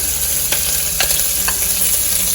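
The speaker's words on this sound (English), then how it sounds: "we're going to add in the green chilies, julienne of ginger," Green chilies and julienned ginger sautéing in oil with cumin and bay leaves make a loud, steady sizzle up close, punctuated by three brief scraping stirs about half a second apart; no speech.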